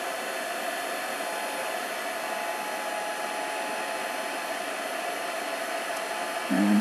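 A heat tool on its low setting blows steadily to dry watercolour paint, a continuous close, even hiss and whir running unbroken throughout with a small bump at the very end.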